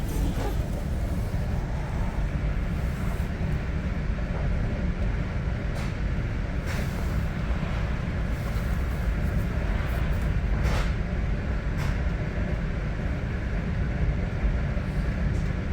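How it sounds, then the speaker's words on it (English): Exo commuter train, an original Bombardier 3000 M, running at night through Westmount with a steady, broad rumble of wheels and car noise throughout, unchanging in level with no talk. "This is the last EXO train of the night, not just on this line, and not just in this direction, but on all the lines."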